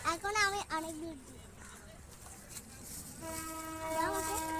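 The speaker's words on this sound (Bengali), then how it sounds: "এই ট্রেন আসছে" A train approaches beside a fishing spot, its horn sounding in wavering blasts at the start and again near the end over a steady rumble, with people talking nearby.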